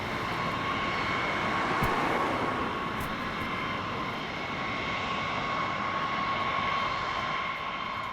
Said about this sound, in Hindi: अमेरिका के स्पाई प्लेन U-2 ने उड़ान भरी